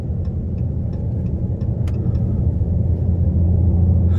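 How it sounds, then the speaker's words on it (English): A 2023 Dodge Charger Hellcat Widebody Jailbreak with a supercharged engine drones steadily from inside the cabin, a loud low rumble that builds slightly toward the end, with faint clicks over it. "that supercharger whine is undeniable"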